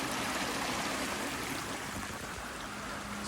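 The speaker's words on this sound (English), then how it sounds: "So the creek is over here." A creek swollen by California rains flows steadily through woods, a constant broadband rush of water, moderately distant and unbroken, with no voices.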